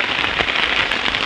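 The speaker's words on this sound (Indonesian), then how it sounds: "Hujan sangat lebat, angin kencang." Heavy rain with strong wind lashes a campsite, a loud, dense, unbroken hiss of downpour pouring steadily and close throughout, with no voices.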